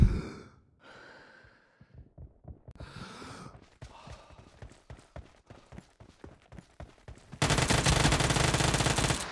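Rapid automatic gunfire in PUBG Mobile team deathmatch, a string of fast close shots with breathy pauses, ending in a loud continuous burst.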